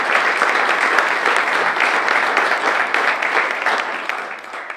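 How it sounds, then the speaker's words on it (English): Sustained applause from a seated audience at a donor appreciation luncheon for a visiting nurse association, steady and full for several seconds before tapering slightly at the end, with no voices over it. "So I want to give a round of applause to everyone in this room."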